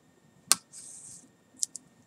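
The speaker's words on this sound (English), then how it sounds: "I just take my scissors and I open them up" Steel scissors snipping and opening, then cutting into contact paper laid over a foam glider body: a sharp snip, a brief scraping slide, then two quick close snips, with no talking.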